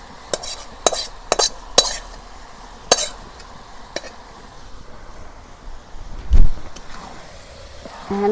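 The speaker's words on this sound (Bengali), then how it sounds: "এখন আমি ভালো করে নাড়াচাড়া করি।" Chicken with fried onions being stirred in a cooking pot for khichuri, with sharp spoon-on-pot clacks and scrapes in an irregular rhythm over a quiet background, no talking.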